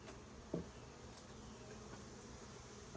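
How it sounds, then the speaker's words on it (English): Honey bees buzzing inside an opened hive, a faint, low continuous hum of many insects with a soft knock near the start, quiet and steady with no talking. "So they're all worker bees."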